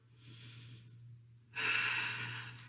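Two slow, deep breaths during a core yoga flow, a soft airy inhale followed by a louder, fuller exhale, close and quiet with no talking.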